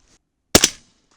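A single close, sharp report from a 300 Blackout AR rifle firing a 240 grain Sierra MatchKing subsonic factory round outdoors, a short crack with a brief decaying tail and quiet before and after.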